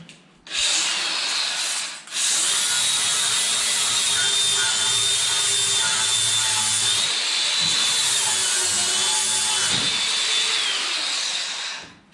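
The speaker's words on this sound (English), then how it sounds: "Let's grind." An angle grinder bites into metal in a long continuous high-pitched whine with shifting grinding tones, loud and close, briefly pausing near the start and winding down at the end.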